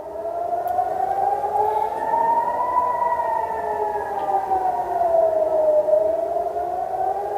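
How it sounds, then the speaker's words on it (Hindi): An air raid siren sounds in Israel during an Iranian missile attack, a loud, sustained wail slowly rising and falling in pitch, heard alone and fairly distant without voices. "सायरन सुनते चलिए, सायरन जबरदस्त है भाई,"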